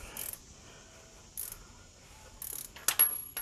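Several short mechanical clicking and ratcheting bursts spaced apart as a 2005 Magnum engine is slowly rotated by hand after a timing belt replacement, ending in a cluster of sharper clicks.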